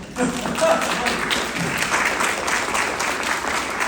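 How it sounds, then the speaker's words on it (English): Audience applause following a talk at an event, steady sustained clapping from a room of people, fairly close and loud throughout, with no voices over it. "I'll let you clap if you want to do that."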